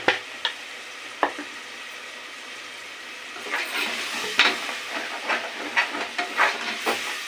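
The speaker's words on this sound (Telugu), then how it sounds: "ఈ టమాటాలు బాగా మగ్గాలి ఫ్రెండ్స్." Tomatoes with salt and turmeric cook in a pan, giving a steady soft sizzle and hiss with scattered pops and a few scraping stirs that grow busier partway through; no one speaks.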